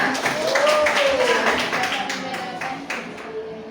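Classmates clap together in a classroom, a brisk burst of hand claps mixed with children's voices and chatter throughout.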